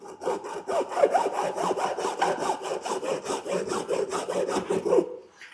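A hand saw cuts through a plastic jug being made into a woodshop dust cyclone, with steady rhythmic rasping strokes, close and fairly loud, for about five seconds before stopping.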